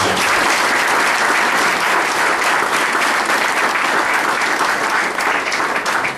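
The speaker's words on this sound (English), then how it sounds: "So just a round of applause for my good friend Mike" A congressional campaign event audience gives a round of applause for Mike Biondo: loud, dense, continuous clapping from a sizable crowd, sustained at full strength without letup.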